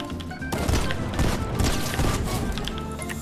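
Gunfire in the video game Fortnite rattles as a dense, loud burst of shots and crashing impacts over about three seconds, continuous and chaotic.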